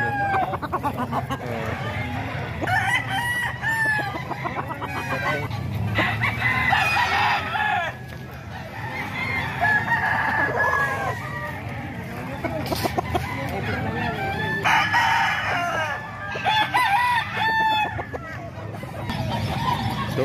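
Stag roosters of a fighting-cock bloodline crow repeatedly at a Calumpit poultry market, several loud overlapping cock-a-doodle-doos over steady clucking and farmyard murmur, with people talking nearby.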